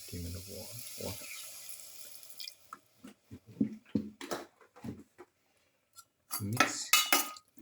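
Water poured into a pan of sautéed shrimp and potato mixture, heard close with splashing and dripping, mixed with clinks of utensils and cookware in irregular bursts and pauses.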